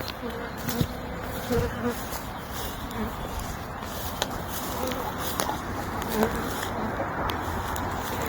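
A steady, close drone of honey bees buzzing around beehives at an apiary in April, with individual bees passing near in brief louder swells.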